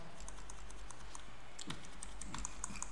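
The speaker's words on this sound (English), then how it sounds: "you can use arrows keys to move up and down" Arrow keys tapped on a computer keyboard while navigating a MySQL 5.7 setup menu on Ubuntu 14.04, a run of light, irregular clicks that are close and fairly quiet over a steady low hum.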